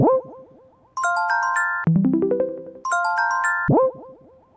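Notification tone previews from a FiveM phone mod in a video game: short bright chimes, plucky blips and a descending boing-like jingle, played one after another, loud and close with no talking.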